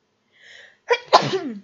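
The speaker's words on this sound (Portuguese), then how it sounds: "Desculpa, gente, espirrei." A single sneeze in a classroom during an art lesson, sharp and close, a soft intake before the burst and a short trailing exhale afterward, heard alone without talk.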